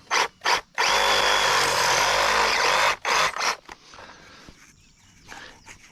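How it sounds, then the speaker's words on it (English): A power tool cuts through the bottom of a 1¼ inch well point pipe: two short revving bursts, then a loud sustained two-second cut, followed by a few brief revs and fading quiet, with no voices. "So let's just cut the bottom off."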